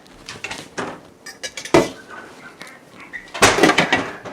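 Chicken with broccoli and cashews stirred in a cooking pan, giving a few scattered clinks and scrapes of utensil against metal, close and moderately loud, with quiet gaps between strokes.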